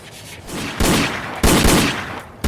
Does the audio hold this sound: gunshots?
yes